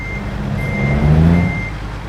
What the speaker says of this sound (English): taking on American Truck Sim with a wheel unlocks the absolute hardest undertaking in sim racing: reverse bay parking an articulated lorry